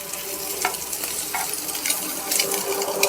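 Egg pieces stirred together in a frying pan, a steady sizzle of frying with repeated scraping strokes of a spatula, close and fairly loud, no talking.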